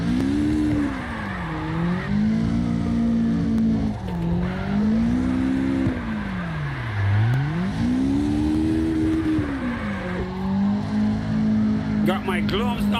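Car drifting in the CarX Drift Racing Online video game: a steady, loud engine drone rises and falls in pitch as the car swings through slides, continuing with no pauses for about thirteen seconds.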